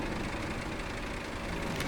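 A heavy truck engine in the video game SnowRunner idles steadily with a low, even rumble and a faint knocking texture, close and continuous, with no talking.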